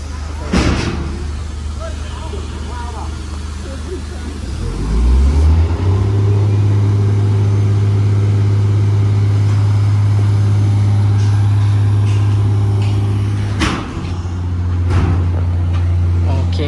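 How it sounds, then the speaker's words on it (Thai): A construction crane on a building site moves with a heavy, steady engine drone that starts mid-way and holds, with clanks and faint voices in the background. "เครนกำลังย้ายนะครับ"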